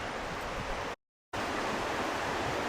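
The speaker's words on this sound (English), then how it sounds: "Over here, just beyond the edge of the campsite, we've got the river running down." River running just beyond the edge of a campsite at Camping Aneto, a steady, broad rushing of flowing water heard on its own, briefly cut to silence partway through.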